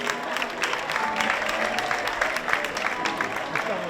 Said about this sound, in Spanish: Un aplauso para mí, para el speaker y para él.